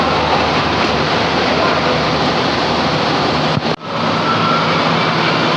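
A JAC Liner passenger bus drives with a loud, steady roar of engine and road noise, briefly dipping for a moment before resuming, with no talking.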